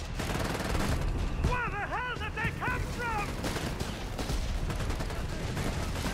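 Gunfire and mortar fire from a Company of Heroes 3 match form dense, continuous crackling bursts and booms at mid-distance. Bright chirping in-game effects sound briefly partway through.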